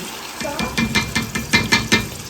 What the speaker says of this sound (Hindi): अब डाल दें प्याज भी, प्याज में टमाटर, ये देखें